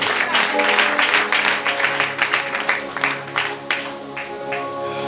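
A church congregation applauds and cheers in praise during a prayer and fasting service, steady clapping mixed with raised voices and a sustained musical tone underneath, fading slightly toward the end.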